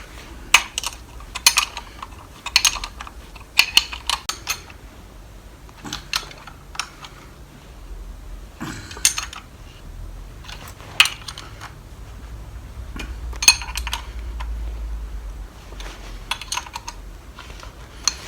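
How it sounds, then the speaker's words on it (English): Steel nuts and spring washers fitted onto studs while reinstalling the epicyclic selector on a 1973 Foden S80 gearbox: scattered light metallic clicks and taps, close and moderately loud, with a brief clunk midway and a low background rumble. "Just going to put a nut on temporary and get the spring washers for it."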